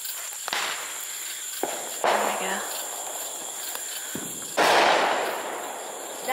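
Several firecracker-like bangs pop at irregular intervals, some sharp and near, others duller, with a smoky crackle and insects chirping in the background.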